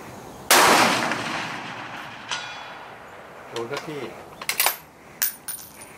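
Rifle shots are fired at a steel plate 400 metres away: one loud, sharp blast is followed by a long rolling echo, then fainter distant cracks and clicks trail off.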